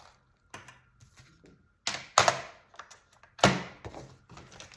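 A paper trimmer (massicot) scores fold lines, giving a series of sharp, close clicks and scraping strokes spaced irregularly, with two louder swipes among quieter taps.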